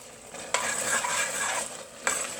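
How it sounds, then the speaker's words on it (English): Parmesan cheese and minced fresh parsley stirred into a sauce for lasagna: a steady, close scraping and swishing with two sharper spoon strokes. "And then stir that around."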